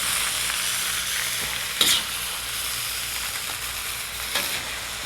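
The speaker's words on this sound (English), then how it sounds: "Now we need to fry our noodles up, get them nice and hot with the rest of the ingredients here for about 3 or 4 minutes." Noodles stir-fry with bean shoots and other ingredients in a hot pan, giving a continuous close sizzle with a couple of brief scraping tosses standing out.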